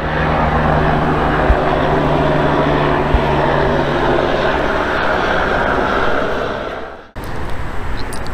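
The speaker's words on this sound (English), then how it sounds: "I hear a helicopter. Where is it? Right there." A steady, loud rotor and engine roar fills the air overhead, droning continuously before cutting out briefly near the end.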